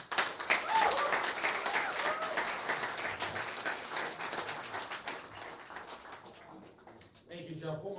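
An audience claps for a state representative candidate at a campaign event, a dense, steady round of applause that fades out near the end, followed by a voice speaking.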